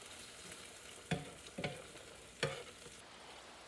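An egg frying in a pan sizzles softly and steadily, with a few sharp scraping clicks as a spatula flips it.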